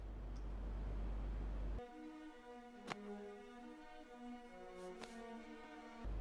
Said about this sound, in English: Oh my God, not the train running.